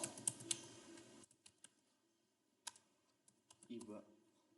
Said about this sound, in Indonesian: Kita ketik username